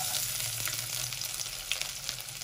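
Dense, continuous crackling sizzle of chopped garlic frying in hot mustard oil, close and fairly loud, with small pops scattered throughout.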